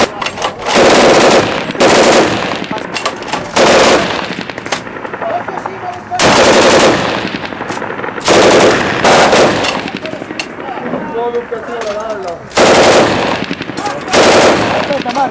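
Machine gun fire during the Third Battle of the Bridges in Nassiriyah, loud bursts of rapid automatic shots in several clusters separated by short pauses, with voices faintly heard between bursts.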